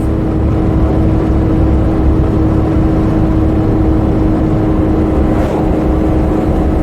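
Car with a swapped-in Suzuki G16B engine idling under light throttle touches, a loud, steady close-up drone with a low hum and little change in pitch, no talking.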